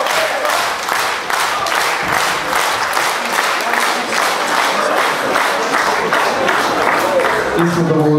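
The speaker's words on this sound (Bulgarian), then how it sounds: "Искам да благодаря на всички за топлите аплодисменти" A crowd at a campaign rally claps steadily in a dense, rhythmic wave, loud and sustained throughout, with some voices and cheering mixed into the applause.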